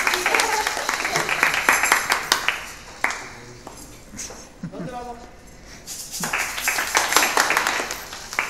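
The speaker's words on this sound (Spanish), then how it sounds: "Aplauso." A small audience at a school workshop claps in loose bursts, close and irregular, fading in the middle and picking back up, with voices talking over it.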